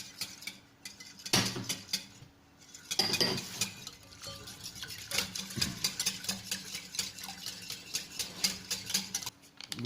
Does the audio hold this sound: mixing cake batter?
yes